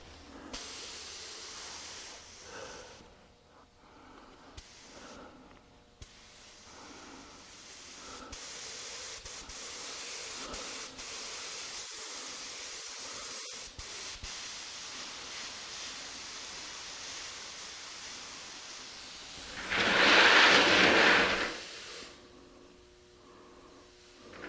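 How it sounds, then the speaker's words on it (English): A spray gun sprays a fine mist of wood finish in a woodworking shop, a steady hiss that swells into a loud, close burst for a couple of seconds near the end over quieter background noise. "Then I can tune my gun down a little bit, get a really fine mist."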